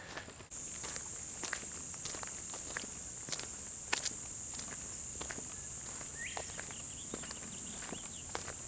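Footsteps crunch steadily along a swamp trail through dry palmetto woods, close and regular, over a constant loud high insect drone, with no talking.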